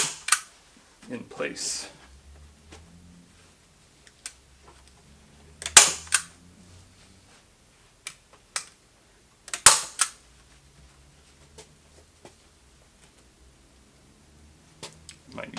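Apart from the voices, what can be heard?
stapling carpet in place on a cat brush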